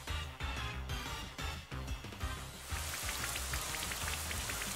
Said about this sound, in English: Let's hit it with the Rain Dance.